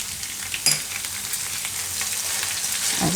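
Garlic and green chillies sizzling in a pan, a steady close frying hiss with a sharp clatter near the start and a scrape of stirring toward the end.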